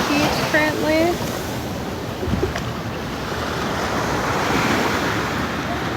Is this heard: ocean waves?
yes